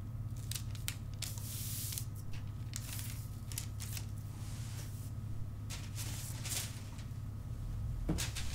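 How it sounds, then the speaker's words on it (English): Scissors snipping away excess seam allowance from a paper sewing pattern for a sleeveless blouse, a steady series of close, crisp cuts and paper rustles over a low room hum. "trimming the excess of the seam allowance."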